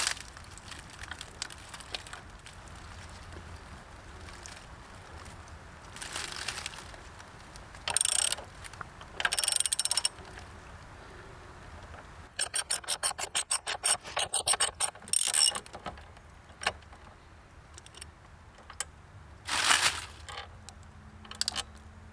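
Ratchet wrench tightening a bolt on the bash plate of a Honda CB500X motorcycle, with quick bursts of rapid clicking separated by pauses and light scraping and handling noises.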